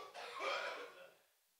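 A single cough from someone in a church congregation, a brief rough throaty burst that trails off into quiet, fairly close and alone.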